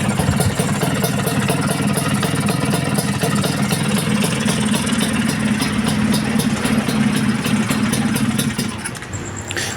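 A Vespa Excel scooter engine idles steadily after a single kick start, a loud, close, continuous putter with a fairly even rhythm that runs nearly ten seconds and drops off at the very end.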